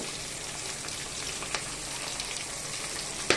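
Potato, carrot and drumstick pieces fry in a pan, giving a steady, fairly quiet crackling sizzle throughout, with a couple of brief sharper pops and no talking.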